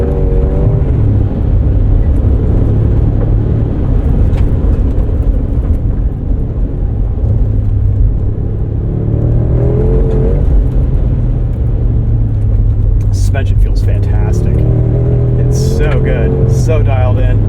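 A 2025 Mercedes-AMG G63 working under throttle off-road, its engine a loud, steady low drone that rises and falls with speed over rough ground, while someone talks over it.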